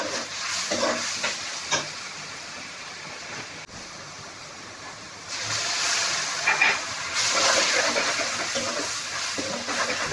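Finely chopped onion fries gently in a pan, a steady hiss that swells louder in the second half, with scattered scrapes of a spoon and no talk.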